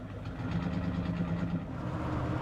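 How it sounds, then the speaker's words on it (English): A 1979 Dodge Lil Red Express truck engine runs smoothly while the truck is put into drive, giving a steady, close low rumble with no rattles or shakes and no voices over it. "It's running real nice, this truck."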